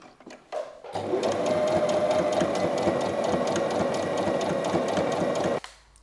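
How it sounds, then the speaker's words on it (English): A domestic sewing machine runs steadily for about five seconds while straight-stitching a sweatshirt, a close, continuous whirring hum with rapid needle clatter that starts abruptly and stops near the end, with no talking. "I should first stitch it with a straight stitch and then go with a zigzag just so it's secured"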